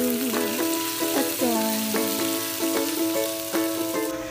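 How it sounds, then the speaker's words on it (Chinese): Chicken stir-fried with chestnuts and mushrooms in a pan, a steady sizzle broken by repeated spatula strokes and clinks against the metal. "接着翻炒，板栗翻炒一下会更加香。"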